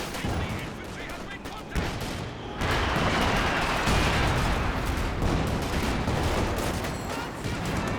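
Panzer IV tank firing on a Sherman in the WWII strategy game Company of Heroes 2, a sharp blast followed by sustained rumbling battle noise and scattered gunfire, fairly close and steady.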